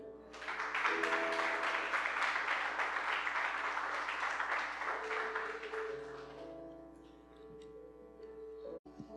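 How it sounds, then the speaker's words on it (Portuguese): A church congregation stands and applauds during a worship service. Dense clapping rises over sustained musical tones, then fades out after about six seconds, leaving the music and a few scattered sounds. "Vamos ficar em pé em nome de Jesus e aplaudir ao Senhor."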